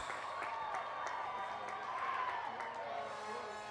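Graduation commencement audience applauding at a Cal Poly Pomona College of Business ceremony, a steady dense wash of clapping and crowd noise held at even loudness throughout, with some cheering mixed in.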